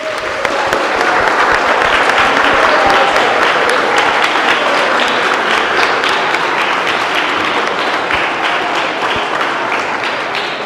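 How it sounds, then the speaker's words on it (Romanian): Audience applause welcoming the Romanian national rugby team at an anti-drug campaign event, a loud, dense, steady wash of many hands clapping that holds for about ten seconds with faint crowd noise beneath. "pe care vreau să-i aplaudăm."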